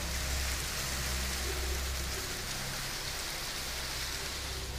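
Heavy rain pours down in a dense, continuous hiss during a village flood, loud and steady throughout with no voices over it.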